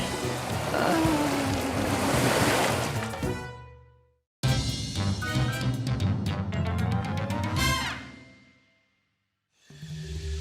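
Cartoon ocean waves of an incoming tide rush in with a loud surging wash, a second swell with bubbly gurgling follows after a sudden cut, then fades to silence before another brief splash.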